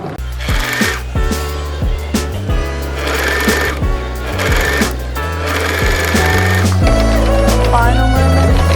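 Sewing machine running over the waistband of a homemade ruffle wrap skirt, heard as a steady mechanical stitching rhythm with background music playing loudly throughout.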